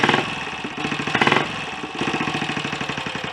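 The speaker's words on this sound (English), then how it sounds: "So I'm keeping the engine running" A Royal Enfield Olympic 250 motorcycle with a freshly rebuilt top end runs close by, a loud, lumpy single-cylinder beat that surges briefly with throttle and then settles into a steady, rapid thumping idle.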